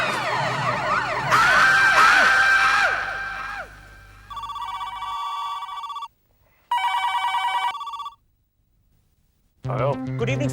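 Telephone ringing late at night in a home, with repeated electronic ring bursts separated by short silences, following a stretch of loud siren-like music; a voice is heard at the very end.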